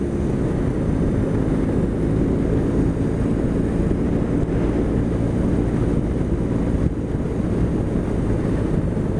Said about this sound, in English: it's quite a vibey engine as it's pulling up through the revs